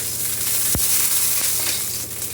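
Aloo paratha frying in a little oil on a hot pan, a steady close sizzle throughout with no talking.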